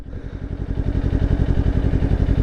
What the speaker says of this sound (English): you blip the throttle, and blip just means do it like that.